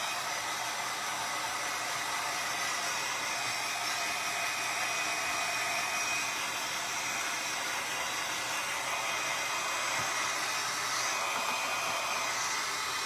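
A dryer blows hot air over a freshly made craft print: a steady, even whoosh of air that runs unbroken from start to finish at a moderate level.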